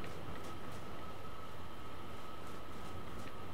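Rocket train on a turntable in Gears of War 5, heard as a steady, loud rumbling rail hum with a faint tonal whine running through it, continuous throughout with no talk.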